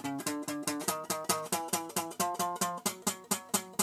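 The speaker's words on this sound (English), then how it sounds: "Here's all the notes this guitar can hit." A cheap pawn-shop guitar bought for about $30 plays one note after another, roughly fifteen evenly spaced plucked tones stepping through its range, close and clear with no voices.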